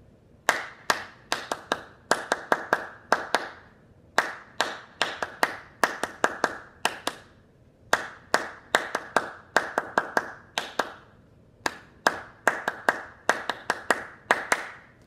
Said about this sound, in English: I'll just open my hands, and we'll clap it together, doing pattern number 2 with the rest at the beginning.